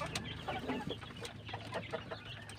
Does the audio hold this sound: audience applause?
no